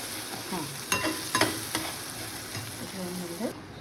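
Sooji halwa in the pan as milk goes into roasted semolina: a steady bubbling sizzle with a few sharp clinks and scrapes of stirring, close and fairly loud, no voices.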